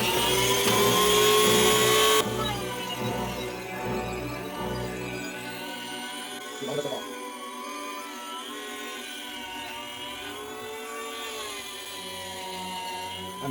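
A rotary tool fitted with a small polishing burr working the surface of a VQ35DE lower intake plenum, a high-pitched whine that starts loud, then softens and wavers in pitch as the tool loads and eases against the metal.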